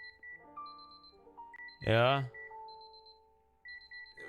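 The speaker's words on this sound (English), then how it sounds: "These alarms are going off and it's making an annoying sound." Electronic alarms in the Superliminal game beep in repeated high tones and intermittent tonal chimes, with a man's brief spoken word cutting loudly across the middle.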